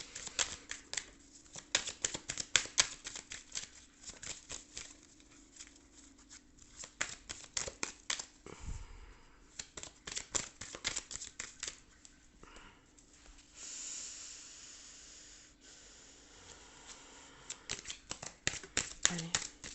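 Tarot cards being shuffled and handled produce a dense run of quick, papery flicks and riffles, close and fairly soft, with short pauses between bursts.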